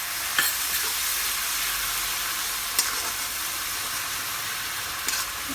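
Spice paste loosened with a little water fries in a kadai, giving a dense, even hiss at close range, broken by a few brief scrapes as it is stirred.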